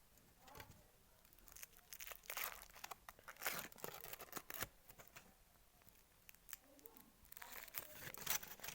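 A chocolate surprise egg's foil wrapper is peeled and torn open, close crinkling and tearing in short irregular bursts with quiet pauses between.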